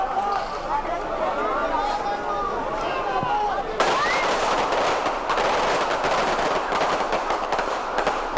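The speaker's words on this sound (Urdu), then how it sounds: "آتش بازی کا سلسلہ جاری ہے" Fireworks bursting at a Lahore celebration crowd, a dense continuous crackle and popping that grows louder and busier midway, with crowd noise and a voice underneath.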